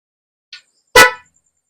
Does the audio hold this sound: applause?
no